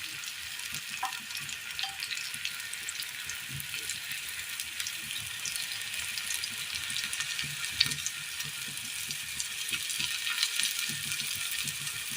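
Brinjal fries steadily in a little oil in a pan, giving a continuous, even hiss and crackle with small pops scattered throughout, moderately quiet and without voices.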